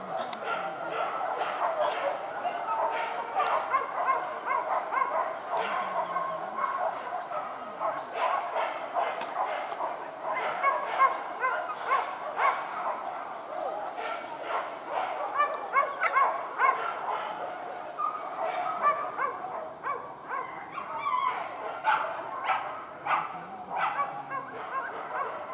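Hunting dogs bark and bay during a hunt along the Garinggiang river, a rapid, continuous run of overlapping yelps and barks at middle distance, with a steady high insect-like whine behind them and voices now and then.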